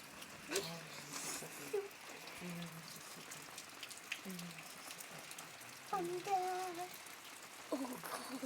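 Heavy thunderstorm rain falls steadily as a dense hiss, with children's voices talking and exclaiming over it at intervals.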